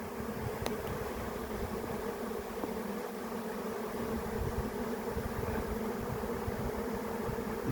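A swarm of honey bees flies outdoors in a steady, dense, low droning hum that holds continuously, with no voices present.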